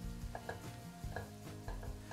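A spoon scrapes and stirs carrots, onion, turmeric, salt and black pepper in a soup pot, with soft irregular knocks and light sizzling, quiet and close, with no talking.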